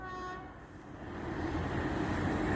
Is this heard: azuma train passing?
yes